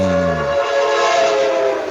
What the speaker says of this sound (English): But here comes the train.